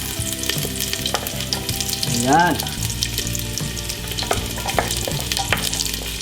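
Garlic sizzling as it sautés in hot cooking oil in a pot, the start of chicken adobo with coconut milk; a steady close frying crackle with stirring clatter, and a brief word spoken over it.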